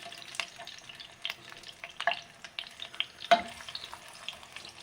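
Raw mango, tomato, garlic and chilli sizzle in a pan on a stove while being roasted for a mango gojju, with soft crackling under occasional sharp clinks and stirring sounds.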